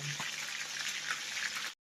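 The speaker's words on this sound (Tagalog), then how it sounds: "habang tayo yung nagpiprito" Bright, steady sizzle of chicken frying in a pan, close and continuous, with a faint clink at the start.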